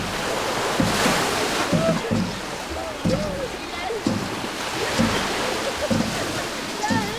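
People in black mourning clothes splash in the sea during a purification ritual, water sloshing and slapping in irregular bursts over surf, with voices and laughter mixed in.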